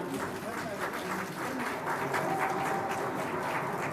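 An audience claps steadily and moderately loudly at the formal launch of a school learning platform, with voices mixed into the dense clapping.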